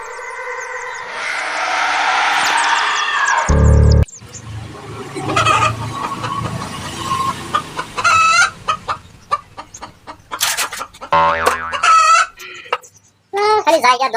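Chickens cluck and squawk in agitated bursts while being chased around a village yard, with a rooster crowing near the start and loud flapping and scuffling between short, choppy calls, and people shouting in between.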